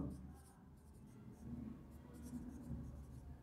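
A pen scratches across paper in soft, continuous strokes, quiet and close, over a faint low background hum.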